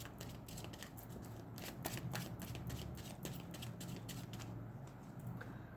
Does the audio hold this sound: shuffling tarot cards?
yes